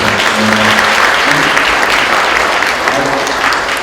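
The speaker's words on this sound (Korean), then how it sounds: "우리 봉사해주신 여러분 박수 한번 드립니다" A crowd applauds steadily and loudly for a few seconds, a dense wash of clapping from many hands.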